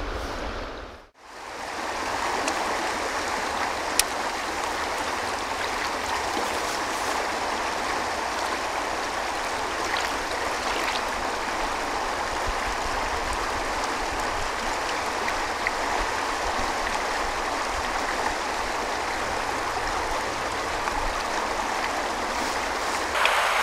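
A side stream of a river at a steelhead fishing spot flows with a constant, full rushing roar, steady and close throughout after a brief dip near the start.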